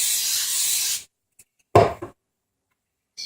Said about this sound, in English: Spray some non-stick spray in there.